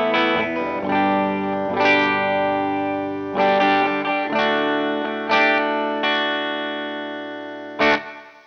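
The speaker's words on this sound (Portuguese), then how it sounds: "eu uso sempre ligados o equalizer e o reverb, sempre estão ligados" Electric guitar run through a pedalboard with equalizer and reverb pedals always engaged, strummed chords ringing out with a long reverb tail, several attacks spaced across the passage and a final sharp stroke near the end, played alone.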